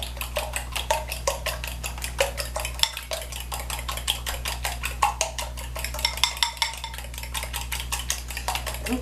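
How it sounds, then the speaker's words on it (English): A fork lightly beats eggs in a bowl, whites and yolks being mixed for a vegetable frittata; quick, steady metallic clicks and scrapes against the bowl keep up a brisk rhythm throughout, close and clear with no talking. "we're just going to take a little bit of a fork, you can use a whisk if you like, and just lightly beat them in the bowl"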